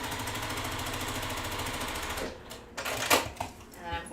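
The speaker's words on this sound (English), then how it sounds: "I slow down when I come to the seam and the pin so I don't crash into it, but I do sew over those pins" Home sewing machine stitching a quilt block seam over straight pins, a steady rapid mechanical chatter for about two seconds before it slows and stops, followed by scattered clicks and handling noise, close and fairly loud.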